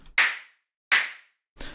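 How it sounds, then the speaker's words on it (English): Two sharp synthesized snare claps built from band-passed white noise, each a bright burst with a quick noise decay, spaced evenly apart with a third hit starting at the end. "that's going to give us the nice clap and noise decay"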